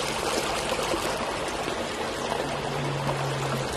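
Water trickling and flowing steadily from a small spring beside a river, a continuous close wash of splashing with no talk over it.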